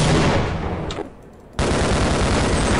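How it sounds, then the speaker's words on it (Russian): Soldiers in Half-Life fire on the player with loud, close automatic gunfire. The bursts break off briefly for about half a second and then resume just as heavily. "Они начали меня расстреливать."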